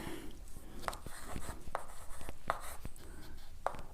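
Marker or chalk writing on a classroom board during a Hindi-language English grammar lesson, heard as short, sharp scratchy strokes spaced about a second apart against faint room noise.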